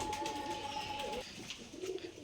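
Pigeons cooing in a loft, soft low coos repeating near and at moderate volume, with a steady tone in the first half and faint bird sounds alongside.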